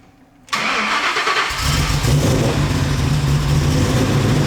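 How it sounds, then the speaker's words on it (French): Ford Shelby GT500 fitted with big camshafts cranks briefly on the starter, then fires and settles into a loud, lumpy idle that stays close and continuous with no talking. "au démarreur, t'entends comme si elle avait moins de compression"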